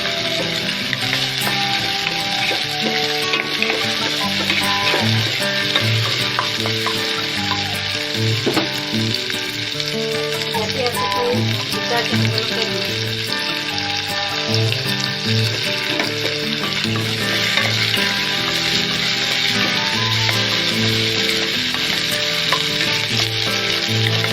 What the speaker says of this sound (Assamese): আদা নহৰু ভুনজালৈকে অকণমান ভাজি দিব লাগিব।